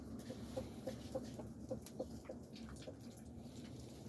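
Chickens clucking in a covered chicken run with a rooster flock on a cold day, a run of short rhythmic clucks at moderate distance over a faint steady background.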